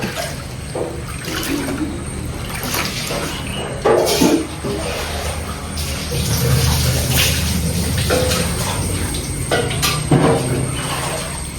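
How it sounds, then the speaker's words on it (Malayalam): Water is poured into a pot of sambar vegetables, giving a steady splashing, trickling stream that swells midway, heard close with some kitchen clatter. "ഇച്ചിരി വെള്ളം ഇതിനകത്തോട്ട് ഒഴിയും."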